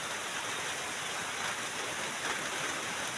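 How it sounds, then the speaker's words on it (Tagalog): Steady rain pours in a rural Philippine setting, a dense, continuous hiss of drops spread evenly with no pauses, fairly loud and close, with no other sounds standing out. "Kita yung umuulan."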